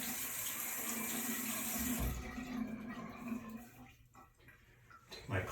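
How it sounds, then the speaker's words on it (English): Tap water runs steadily into a sink during a quick face rinse in a skincare routine, a close, continuous gush that cuts off partway through, leaving a few faint drips and handling sounds. "I'm going to just do a quick rinse here."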